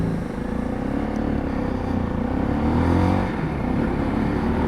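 A Lexmoto LXS motorcycle with a replaced engine is ridden on busy roads, its engine droning steadily and loudly up close with a slight rise and fall in revs, mixed with wind rush.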